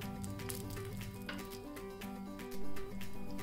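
Urad dal and dry red chillies fry in oil with a soft, steady crackling sizzle and scattered small pops. A continuous tonal hum sits in the background.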